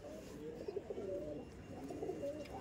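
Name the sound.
Andhra pigeons cooing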